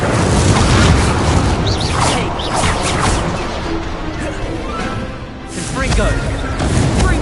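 Incendio fire spell in Hogwarts Legacy, a burst of booming, crackling impacts amid a dense, noisy duel soundscape, loud and continuous.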